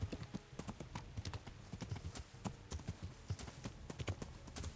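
Horse hooves clip-clopping in the medieval video game Kingdom Come: Deliverance, a quiet, steady rhythmic trot of hoof strikes continuing throughout without any voices.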